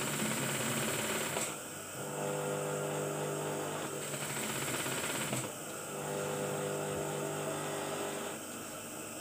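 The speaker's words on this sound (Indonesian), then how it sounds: "Kita jahit dari sini, kita matikan. Jahit sekitar setengah cm." A sewing machine stitching the shoulder seam of a short-sleeved batik shirt, running in steady whirring bursts with a brief pause between them, close and clear with no talk.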